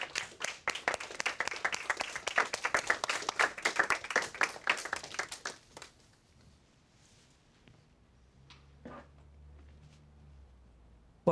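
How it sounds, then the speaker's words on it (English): An audience claps for a guest speaker walking on at a documentary event: loud, rapid applause for about six seconds that cuts off abruptly, followed by quiet room tone with a few faint sounds. "we're going to give him a big round of applause"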